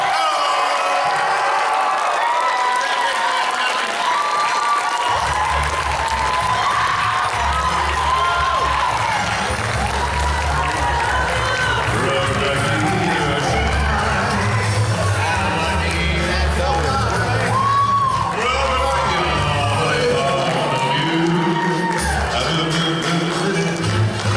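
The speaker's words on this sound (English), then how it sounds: "Guys, give one last round of applause." A convention audience gives a final round of applause for two voice actors, a loud sustained crowd roar of clapping, cheers and whoops that swells after a quiet start and carries on for over twenty seconds.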